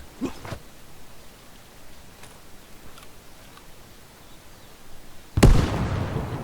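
A frag grenade detonates in the Arma 3 military simulation game, one sharp close blast near the end followed by a lingering rumble, after several faint distant pops.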